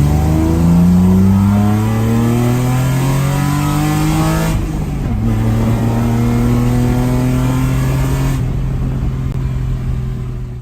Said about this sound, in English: Do a second gear pull real quick.